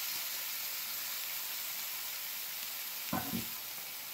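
Sliced bitter gourd sizzles in hot oil after fish has been fried in the same pan, a steady loud hiss with a couple of brief stirring knocks near the end.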